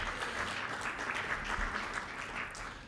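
An audience at a conference's opening session claps for nearly three seconds, a dense, even wash of applause that tapers slightly at the end.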